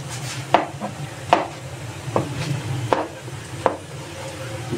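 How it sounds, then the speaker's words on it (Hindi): Roasted eggplant being chopped into small pieces with a knife on a board, a few sharp, separate cuts spaced about a second apart, close by, with no talk. "ठीक है जी, इनको भी छोटा छोटा काट लेते हैं।"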